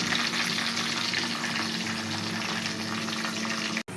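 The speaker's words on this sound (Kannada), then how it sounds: "ಈಗ ಹಸಿಮೆಣಸು ಕರಿಬೇವು ಹಾಕ್ಕೊಂಬಿಡೋಣ ಈರುಳ್ಳಿ ಹಾಕ್ಕೊಡ್ತಾ ಇದ್ದಾನೆ" Onion, green chilli and curry leaves sizzle steadily in hot oil in a pan, an even hissing fry with a brief knock near the end and no talk.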